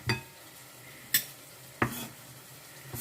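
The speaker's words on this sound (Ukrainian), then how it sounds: "Цибулька не встигла просмажитись, а ми вже з вами морковку натерли." Onion frying in a pot over an outdoor fire for a one-pot soup, a soft sizzle broken by three sharp stirring clinks of a utensil against the pot.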